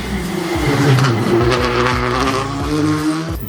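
A rally car on a shakedown stage roars past, its engine note loud and close with rising and falling revs and gear changes before it fades away at the end.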